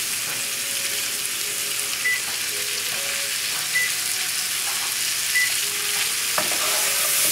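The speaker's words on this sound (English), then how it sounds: "the peppers cook quickly, the zucchini cooks quickly" Sliced peppers and zucchini fry in a hot pan beside a rack of lamb, giving a steady, dense sizzle throughout with a few faint clinks near the end and no voices.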